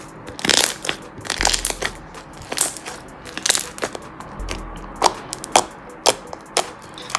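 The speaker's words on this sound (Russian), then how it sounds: "когда вот так вот слаймик растягиваешь, и вот так вот его делаешь, он хрустит просто божественно" Crunchy slime is stretched and squeezed by hand, giving close, sharp crackling and popping bursts in irregular clusters, with occasional dull low thumps between them.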